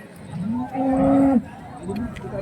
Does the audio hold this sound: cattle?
yes